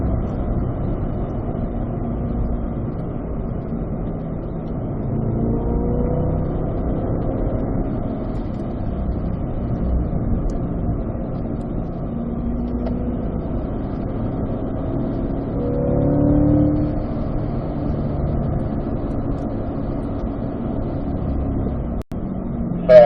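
A 2024 Corvette Stingray Z51 laps a circuit in track mode, its engine a steady, continuous drone from inside the cabin, rising and falling slightly as it accelerates through turns.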